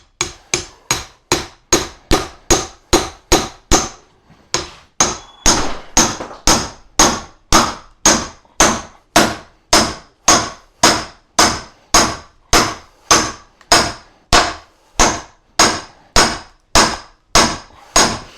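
An axe strikes willow wood while splitting it, landing loud, close, sharp knocks in a steady, regular rhythm, about two blows per second, with one short pause early on.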